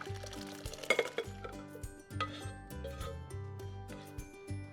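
A boiled fruit mixture for a Christmas fruitcake is moved from the pot into a bowl, giving scattered metallic clinks and scrapes of spoon on cookware over a steady tonal background.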